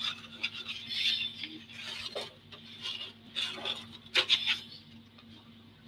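Fine-grit 220 sandpaper rubbed by hand across a plastic model part in a series of short, close, raspy strokes with brief pauses, alone and fairly quiet over a faint steady hum.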